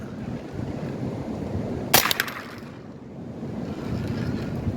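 Wind gusts buffet the microphone in low rumbling surges at an outdoor .22 rifle range, with a brief sharp rattling burst midway before the blustery roar settles back.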